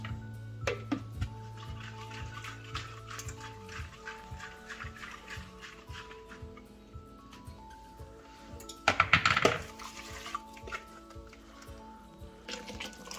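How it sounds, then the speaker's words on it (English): Meat stock whisked into black soup in a pot, close wet sloshing and clinking strokes with a brief louder splashy burst near the middle, no talk. "Just going to use my meat stock to whisk it out."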